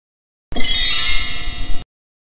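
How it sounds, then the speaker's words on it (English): Chimes struck once ring out bright and metallic for just over a second, then cut off abruptly. "The chimes make this sound."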